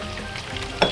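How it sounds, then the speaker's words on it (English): Onion, sweet pepper and luncheon meat sizzle in a pan, a steady close frying hiss with a sharper crackling burst near the end. "we're just gonna make that sizzle and get all the flavor in"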